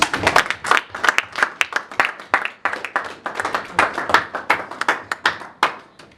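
A church congregation claps in a fast rhythm, sharp close hand claps repeating steadily for several seconds with some cheering mixed in.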